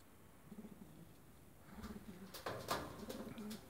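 Pigeons coo softly in a loft, a few faint low rolling calls repeating in short phrases over quiet background hiss.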